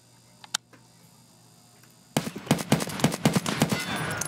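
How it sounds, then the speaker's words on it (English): Hip-fire gunshots in Escape from Tarkov: a couple of isolated shots, a quiet pause, then a rapid burst of sharp repeated reports, fairly loud and close, with no talking over them. "Now, hip fire."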